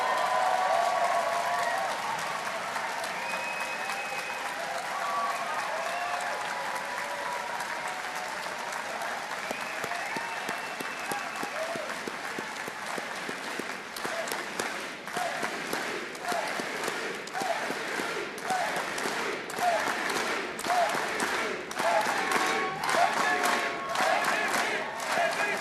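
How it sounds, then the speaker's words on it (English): A convention audience at a 2026 NDP convention gives a sustained round of applause and cheering for five candidates. The clapping is dense and continuous throughout and grows more intense toward the end. "Let's just give one rousing round of applause for these fabulous people."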